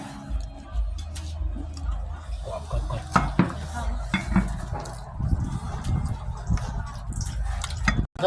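Pounding som tam, Thai papaya salad, in a mortar at an outdoor meal with grilled squid and chicken: repeated dull thuds and clatter of pestle on mortar, with kitchenware clinks and voices talking nearby.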